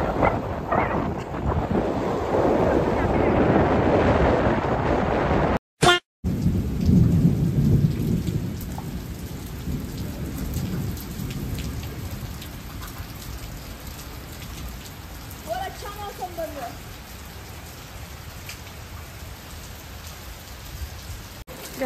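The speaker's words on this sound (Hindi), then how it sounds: "यहाँ पे बारिश स्टार्ट हो गया है" Heavy rain pours steadily onto surfaces with deep rolling thunder beneath it, close and loud with wind buffeting the microphone and a brief dropout partway through.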